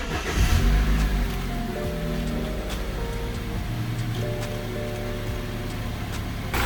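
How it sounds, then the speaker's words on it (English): A repaired BMW car pulls away on a test drive, its engine revving up through smooth rising and falling tones, close and steady, with road and wind noise underneath. "So let's go take it for a drive and see if it feels quick"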